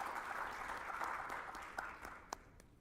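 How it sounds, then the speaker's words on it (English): Audience applause at a sustainability event welcomes two speakers, sounding as fairly quiet, even clapping that thins out into a few scattered claps toward the end. "Please join me in welcoming Maria and Oleg with a round of applause before we start."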